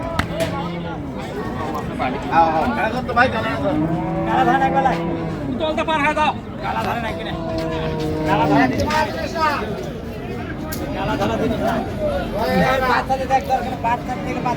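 Dairy cows and calves low and moo now and then over the steady babble of a busy crowd at Raniganj livestock market, Dinajpur, Bangladesh, with people talking nearby throughout.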